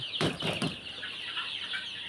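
Nine-day-old Sonali chicks on a farm give faint, scattered peeping, with a brief flutter of wings near the start, heard at low volume with no talk.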